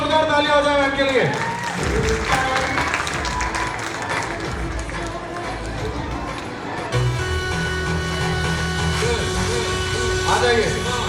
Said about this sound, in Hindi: एक बार जोरदार ताली हो जाए मैम के लिए